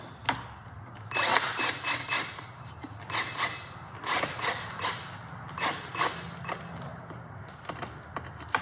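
A power drill drives a bolt into a cheap aftermarket tail rack on a 2021 KLX300 dirt bike. The motor whirs in repeated short bursts of about a second each, fairly close and loud, with no talking.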